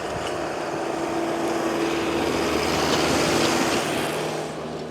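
A tractor struggles through deep snow clearing a snowed-in car market, its engine a continuous, labouring drone with a steady tonal hum, fairly close and unbroken, with no one speaking.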